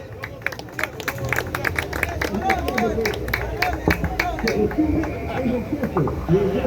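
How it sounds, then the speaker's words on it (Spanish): An audience applauds a speaker at an evening talk, a steady wash of many hands clapping close by, mixed with crowd murmur and chatter throughout. "Fuertes palmas para él."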